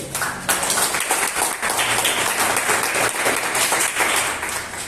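A church congregation gives a loud, sustained round of applause during a sermon on being a disciple of Jesus, dense clapping from many people filling the room steadily for several seconds.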